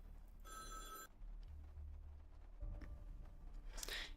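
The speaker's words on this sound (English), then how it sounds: "Oh, the phone is ringing." In the courtroom video game You Are The Judge, a telephone bell rings in one short, bright burst, followed by quiet clicks and a faint closing chime.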